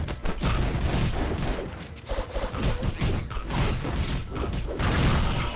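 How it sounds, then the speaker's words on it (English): Rapid bursts of video game gunfire crackle almost continuously, with mechanical clicks and rattles mixed in, loud and close, with no talking. "The gunshots just sound really weird on stream."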